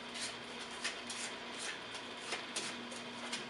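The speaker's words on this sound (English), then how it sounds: "I'm going to shuffle them." Playing cards shuffled quietly close by, a series of soft papery riffles and flicks in an uneven rhythm, with no talking.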